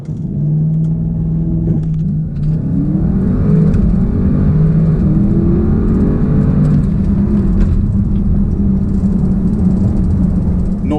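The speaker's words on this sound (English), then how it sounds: "let's see what this Audi RS6 can muster." A 2020 Audi RS6 with 600 horsepower launches from 0 to 60, its engine rumbling loud and close, then rising through revving gear pulls with audible shifts, under a steady road and wind roar.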